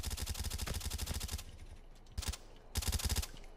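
Rapid automatic gunfire from the Call of Duty Mobile battle royale game, a long sustained burst followed by a short burst and then another loud volley, up close and with no talk over it.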